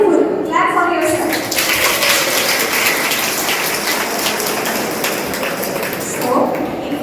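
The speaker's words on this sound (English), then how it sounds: "Clap for yourself." An audience claps for themselves at an Ayurveda Day event at a medical college: dense, steady hand-clapping filling the room for several seconds, with voices mixed in underneath.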